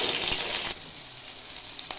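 Pieces of raw mango sizzle in hot oil with dried red chilli and five-spice seeds. A bright, crackling fry is loud at first, then settles into a softer, steady sizzle with a faint clink near the end.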